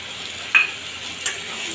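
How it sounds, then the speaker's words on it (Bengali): A chilli, turmeric and salt masala paste sautéing in hot oil over ginger and tomato for a fish curry, with a low steady sizzle and two brief spoon scrapes against the pan. "যতক্ষণ না ভালোভাবে তেল ছেড়ে আসে ততক্ষণ মশলাটাকে কষাবো"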